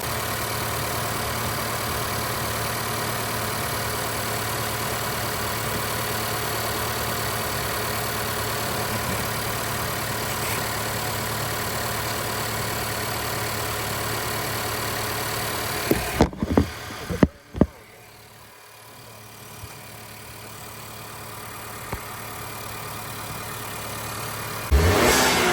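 A 2019 Honda Accord Sport 2.0T with a manual gearbox and stock intake fitted with a K&N filter idles with a steady drone, then gives a few short blips and goes quiet with small clicks before the engine hum returns.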